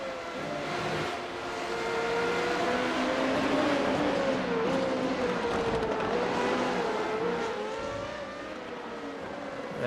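Formula 3.5 race cars at Silverstone in iRacing, engines droning at high revs with rising and falling pitch as they run the front straight, a continuous layered whine that swells and fades.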